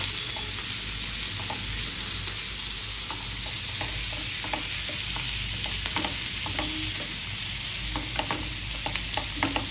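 Tomatoes are stirred into a frying pan, a steady close sizzle running throughout with soft scraping and tapping of a spatula, busier toward the end, and no talking.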